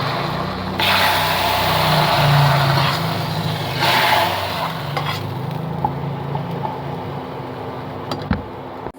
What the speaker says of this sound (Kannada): ಇದಕ್ಕೊಂದು ಒಗ್ಗರಣೆ ಹಾಕಿ ನೋಡಿ. ಸಾಸಿವೆ, ಕರಿಬೇವು, ಎಣ್ಣೆ,